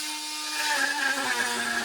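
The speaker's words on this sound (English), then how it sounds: "I actually just take good old-fashioned multi-tool, line it up, and go ahead and make that bracket" An oscillating multi-tool cuts into a piece of wood to make a bracket for a Shaker-style step stool, producing a loud, steady high-pitched buzzing whine that rises as the blade bites in.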